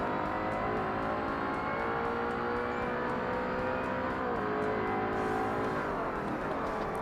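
A race car engine in the video game Forza Motorsport whines with a steady, oscillating high-pitched tone, continuous throughout, with the pitch shifting slightly partway through.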